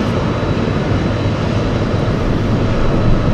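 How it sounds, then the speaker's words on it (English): A Boeing 777 jet roars loud and close as it passes at Anchorage, a steady broadband rumble of engine noise that holds without a break throughout. "There goes the 777."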